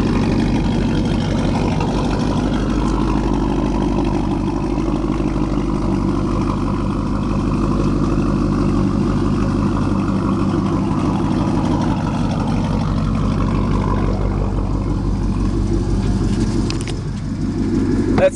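A truck engine idles with a loud, even low-pitched rumble that holds steady for the whole stretch, with a slight dip near the end and no voices over it.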